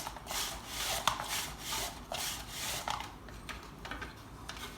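A whole potato is sliced thin for french fries on a hand slicer, giving repeated soft rasping, scraping strokes in a steady rhythm, close and fairly quiet.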